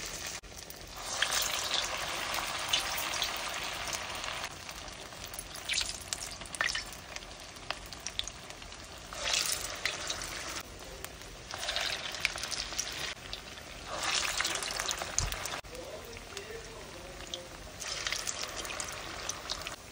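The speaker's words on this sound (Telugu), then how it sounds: "చూడండి, గారెల నూనె మరిగింది. ఇప్పుడు నేను గారెలు వేస్తున్నాను." Garelu, lentil fritters for a Vinayaka Chavithi offering, fry in hot oil with a steady bubbling sizzle. It swells in several loud bursts as batter drops in or gets stirred, and no one speaks.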